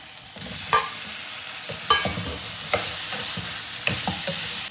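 A spoon stirs chopped jackfruit into a pan of simmering Chettinad-style kurma, giving a steady soft sizzle broken by several distinct scraping strokes against the pan, close and clear.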